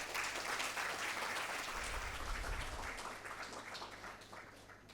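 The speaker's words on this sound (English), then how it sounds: "Let's greet all our esteemed dignitaries with a round of applause" A round of applause greets dignitaries at a 2024 induction programme, steady clapping from an audience heard at a moderate distance and slowly easing off toward the end, with a low hum beneath it.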